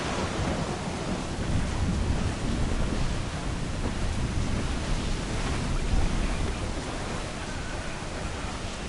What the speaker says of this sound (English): Storm there, Captain!